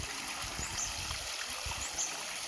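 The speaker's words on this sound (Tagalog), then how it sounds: "Ito tayo sa may falls." Stream water runs near a waterfall, a soft continuous trickling and gurgling with light splashes, fairly faint and steady over a couple of seconds, with no one talking.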